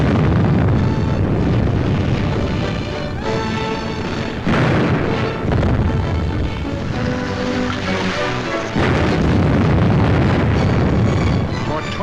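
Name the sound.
heavy artillery bombardment explosions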